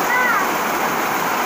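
Floodwater rushing through a flooded neighborhood, a loud continuous roar and splash of moving water close by, with a faint bird chirp at the start.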